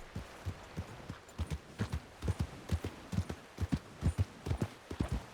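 Horse hooves clip-clopping in a video game, a quiet, steady rhythm of soft thuds at a walking pace, close by with a faint low hum beneath.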